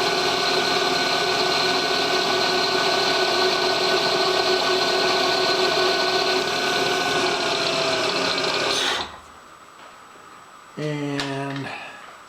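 A loud power tool whines steadily while cutting a center hole for about nine seconds, then stops abruptly; a voice speaks briefly afterward.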